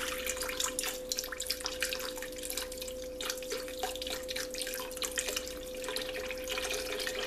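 Free-range chicken stock pours from a box into a pot of gumbo, a steady, faint liquid trickle with small drips throughout, close and alone with no talking.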